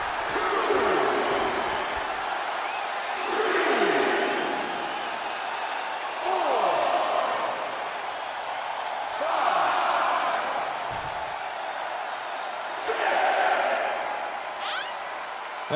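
A wrestling arena crowd at a women's six-person Hell in a Cell match roars in repeated swelling waves of cheering, with a commentator talking over the noise throughout.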